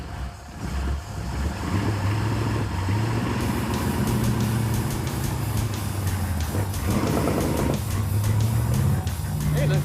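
A Dodge Dart with a 440 engine and freshly fitted exhaust being driven, its loud low engine roar rising and falling steadily, close and continuous, with voices talking over it.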